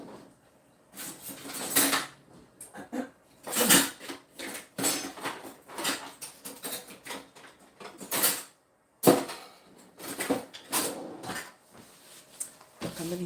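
Someone rummages through a home kitchen drawer for a whisk, with clattering cutlery, knocks and a drawer sliding in a close, busy run of bursts.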